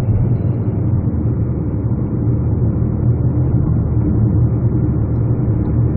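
A 2011 Kia K5 running on LPG accelerating, heard from inside as a loud, steady engine drone and road rumble that holds evenly for the whole stretch.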